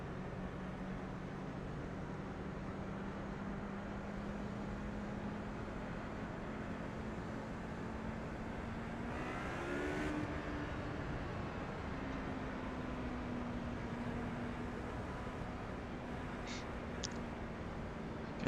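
An HPD prototype race car in the iRacing sim rolls off on a pace lap at Sebring, its engine a steady, fairly quiet drone that swells and shifts pitch briefly midway before settling back.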